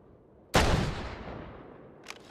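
A single loud gunshot from a firearm in the VR shooter Hot Dogs, Horseshoes & Hand Grenades cracks close up and rings out in a long decaying tail, followed by a couple of faint mechanical clicks.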